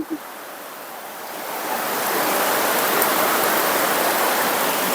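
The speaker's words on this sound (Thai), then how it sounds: "ฝนก็ยัง ยังตกอยู่" Heavy October rain pours steadily on a house, a dense broadband hiss that swells after the first couple of seconds and then holds loud and constant, with no voices.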